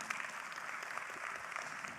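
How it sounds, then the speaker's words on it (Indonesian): Applause from an audience at a leadership training event, a soft, steady wash of many hands clapping heard at some distance with no talk over it. "Tepuk tangan buat Riway Internasional."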